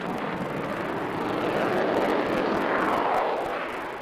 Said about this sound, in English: It's a single-seat, all-weather, all-altitude interceptor, attack and reconnaissance aircraft.